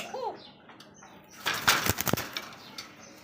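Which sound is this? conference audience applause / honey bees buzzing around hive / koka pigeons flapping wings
koka pigeons flapping wings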